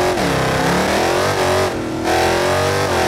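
A Dodge Challenger Demon in BeamNG revs hard while accelerating, a loud, steady engine roar whose pitch rises and drops through gear-like sweeps, with a short dip partway through.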